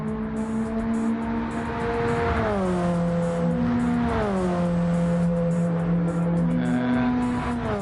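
GTCA championship race cars on the final lap, several engines droning together close by, their pitches rising and falling through shifts and throttle changes in a steady, continuous roar.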